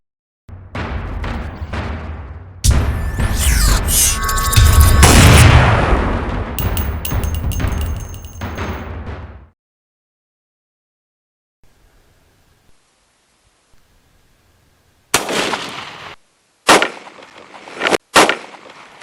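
Hornady Critical Defense 185 grain rounds fired into ballistics gel: sharp, loud reports and a stretch of heavy roaring noise, then a long silence, then a few more separate sharp cracks near the end.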